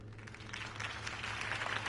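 Faint crowd applause in the Batman: The Telltale Series video game, following a campaign speech for Harvey Dent, a soft, even wash of distant clapping that swells slightly toward the end.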